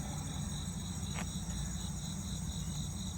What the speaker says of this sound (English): I hear the crickets singing.